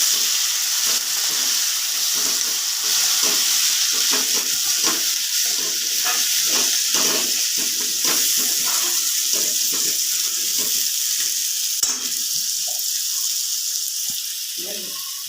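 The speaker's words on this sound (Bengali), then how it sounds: "পেঁয়াজগুলো একটু ভেজে নিয়েছি।" Chopped onions fry in hot oil with turmeric for a goat liver dish, giving a steady broadband sizzle throughout with soft scrapes and clatters, and faint speech now and then underneath.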